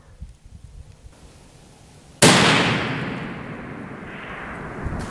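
A .338 Lapua Magnum rifle fires a single round at a 1,000-yard target, one sharp, very loud crack after quiet outdoor background, followed by a long rumbling echo rolling away across the range.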